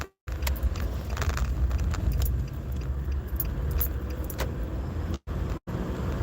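A car drives with its windows down, a steady, loud rush of road and wind noise with faint jingling keys, broken by two brief dropouts.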